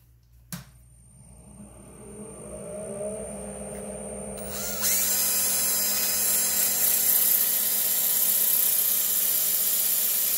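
A wooden bowl spinning on a woodturning lathe while being sanded, a steady motor whine building up and then a louder, brighter hiss of abrasive against wood that continues to the end.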